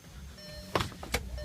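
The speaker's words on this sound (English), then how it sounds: "after you close the calipers, you gotta cycle the parking brake" On a VW or Audi, the electronic parking brake motor whirs in two short, faint mechanical bursts about a third of a second apart, heard close by inside the car over low background hum.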